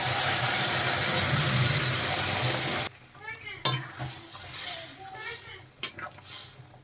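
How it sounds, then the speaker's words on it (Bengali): A loud, continuous hiss of dal hitting a hot kadai for a Bengali veg thali lasts about three seconds and then cuts off abruptly, leaving quieter stirring knocks and someone speaking. "ডাল এখন প্রথমে কড়াইতে দিয়ে দিলাম পুরো ডালটা এখন ঢেলে দিচ্ছি"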